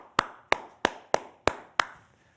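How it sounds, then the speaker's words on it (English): Six evenly spaced sharp claps, about three per second, close and fairly faint, from a lone clapper rather than a crowd at an online CurePSP 30th anniversary event. "Let's give Ellen Siddiqui a huge round of applause one more time."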